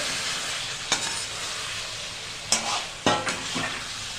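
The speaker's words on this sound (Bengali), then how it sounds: "ভালো করে কষে গেছে, এবার ফুলকপি ভাজাটা দেবে।" Fried cauliflower is added to a loudly sizzling pan of cooked-down masala, with a few sharp scraping clatters of a spoon stirring at intervals.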